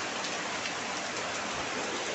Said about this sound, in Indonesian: air hujan turun itu manfaatnya besar sekali